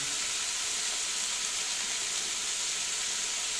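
Snake gourd frying in a pan, stirred now and then, gives a steady, even sizzle with bright hiss throughout, close and continuous with no voices.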